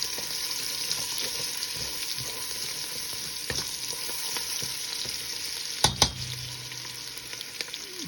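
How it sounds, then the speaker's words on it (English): Chopped onion and crushed garlic fry in olive oil and butter in a pot, a steady dense sizzle throughout with faint stirring scrapes and two brief clinks near the end. "she has added olive oil, 8 cloves of crushed garlic, the whole chopped onion, and a nice piece of butter"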